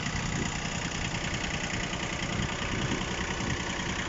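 A Yanmar FX165 tractor engine idling, heard as a steady, even diesel rumble with constant loudness throughout and no talking.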